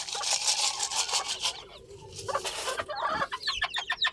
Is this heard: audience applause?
no